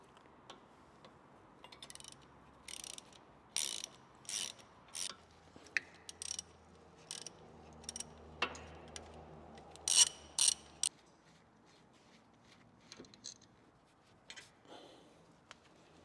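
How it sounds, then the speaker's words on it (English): Ratchet wrench clicking in short bursts while loosening the 13mm brake caliper bolts on a 2023 Cupra Formentor VZx, a close, dry metallic ticking with brief pauses between strokes and no talk. "and we're going to remove the caliper."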